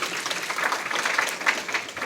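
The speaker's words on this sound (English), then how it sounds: "let's clap for her real quick, please" A luncheon crowd at a chamber of commerce membership event applauds steadily for about two seconds, a dense wash of clapping with no voices rising above it.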